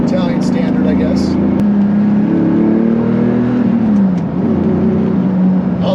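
A 1998 Lamborghini Diablo SV on a mountain road lets out a loud, close engine rev that climbs and falls, then settles into a steady growl.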